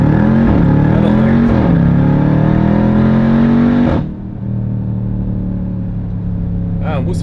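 A Jeep Grand Cherokee Trackhawk launches hard in first gear with a loud, steady roar. The engine note rises, cuts sharply at about four seconds and settles into a lower drone. No one speaks.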